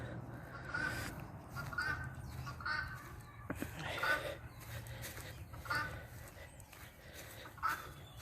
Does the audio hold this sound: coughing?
no